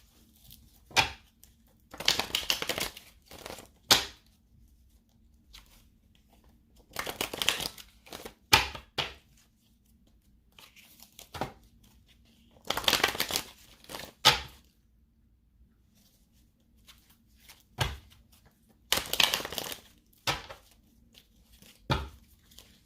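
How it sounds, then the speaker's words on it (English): Tarot cards being shuffled by hand in repeated bursts of riffling and flapping, each a second or two long, separated by quiet pauses, close and fairly soft. "Let me shuffle these cards because I did not shuffle them."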